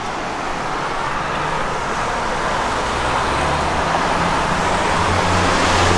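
A 1966 Dodge Coronet 500 on 15-inch chrome American Racing Torque Thrust wheels drives along the road, its steady engine and tire roar constant and fairly loud throughout with no talking.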